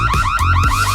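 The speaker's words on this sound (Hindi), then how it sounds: "अलार्म क्यों बजाता है?" A loud alarm blares close by in rapid repeating electronic whoops, several sweeping cycles within a second, with no voices over it.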